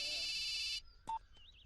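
A mobile phone rings with a loud, steady electronic tone for under a second, then cuts off, followed by a few faint beeps and clicks.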